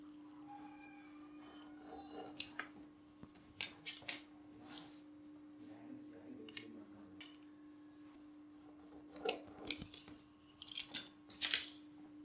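Scissors snipping extra edges off homemade samosa pastry sheets, several faint close cuts scattered over a quiet room hum with light handling noises.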